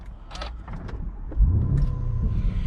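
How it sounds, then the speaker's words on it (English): A 2019 Lamborghini Urus engine cranks and fires up, a deep low rumble rising abruptly after a few faint clicks and whirs, then settling into a steady close idle. "I try and start the car now"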